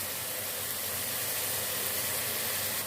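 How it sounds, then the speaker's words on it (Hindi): Chicken keema sautéing in a pan, a steady broadband sizzle and hiss that stays constant and fairly loud throughout, with no talking. "3 मिनट इसकी हम भुनाई कर लेंगे।"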